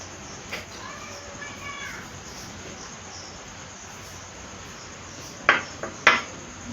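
A spoon mixing cooked rice with ghee in a bowl makes two brief clinks near the end, over a steady bed of cricket chirping and faint background voices.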